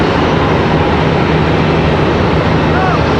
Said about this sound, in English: Looks like we got an A321 arrival.